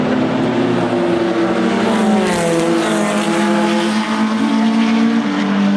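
A Corvette race car at Oulton Park during a World Sportscar Masters race, its engine a loud, close, steady roar with shifting harmonic pitch that holds for the whole stretch.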